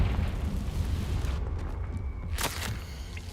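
Confringo fire spell explosion in the Hogwarts Legacy video game, a short rumbling burst with a crackling blast over dense game noise.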